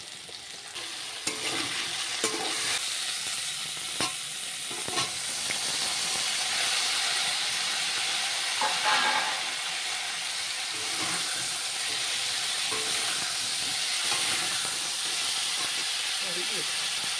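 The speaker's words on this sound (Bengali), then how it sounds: "আলুটা ভাজার সময় একবারে স্বাদ মতো নুন দিয়ে দিতে হবে" Potatoes sizzle and hiss steadily in hot oil with salt added, a continuous frying crackle with occasional stirring scrapes, cooked as the first step of Bengali shukto.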